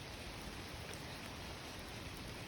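Steady rain from the remnants of Hurricane Ian falls on a state park trail near the water, a faint, even hiss of drops with no voices.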